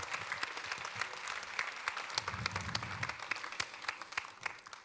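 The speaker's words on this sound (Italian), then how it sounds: "vorrei un applauso per Roberto Gigio" Audience applause at the GEN BLUE 2025 awards event, a steady wash of many hands clapping throughout, with a few sharper individual claps standing out near the end as it thins.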